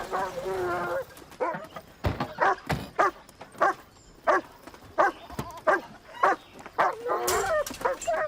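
A dog barks in a steady series of sharp, fairly close woofs with brief gaps, a few whimpering yips mixed in.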